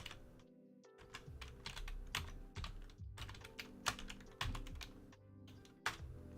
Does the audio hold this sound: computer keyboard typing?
yes